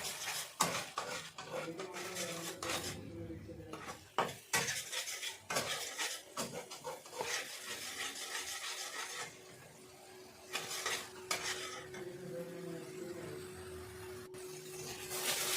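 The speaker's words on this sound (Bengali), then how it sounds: "এরপর আমরা খুব ভালোভাবে মশলাটিকে কষিয়ে নেব" Masala paste of tomato being stirred and fried in a pan for aloo paratha filling, with repeated scraping and clattering of a spoon against the metal, loud close strokes in an irregular rhythm.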